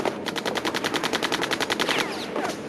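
Sustained automatic gunfire rattles in a rapid, even burst of about twenty shots in a reconstruction of the 1972 Munich Olympics airport shootout, loud and close, with a few scattered reports after it.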